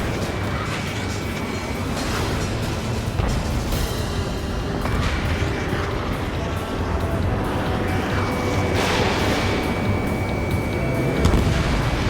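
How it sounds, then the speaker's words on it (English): Missiles and explosions in an Ace Combat 7 aerial battle: a dense, continuous roar of jet noise with repeated booming blasts and impacts, loud throughout. "Strider 1, missile inbound."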